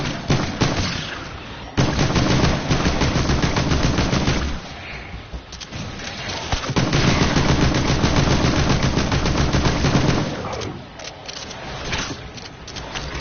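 Sustained rapid automatic gunfire from a Fortnite match, loud and dense bursts with short pauses between them, heard alone without talk.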